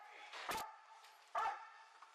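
A police K9 dog barks twice, sharp and fairly close, with faint background noise in between.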